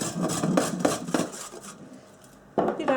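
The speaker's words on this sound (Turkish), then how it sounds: "Rendenin iri kenarıyla rendeliyoruz" Beetroot being grated on the coarse side of a grater for an artichoke salad, with several rhythmic rasping strokes close by, a quiet pause, then a final burst of scraping.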